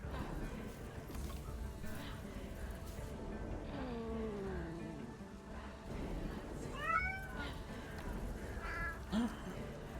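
Cat meows from the video game 1666: Amsterdam rise over a busy layer of music and game sounds, a few distinct mewing calls near the end.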